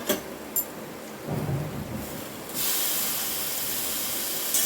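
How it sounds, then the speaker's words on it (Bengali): Maggi noodles frying with soy sauce in a hot pan: faint rumbling at first, then a loud, steady sizzling hiss bursts in and continues. "সয়া সসের সাথে ম্যাগিটা দিয়ে ভালোভাবে ভাজতে থাকবো"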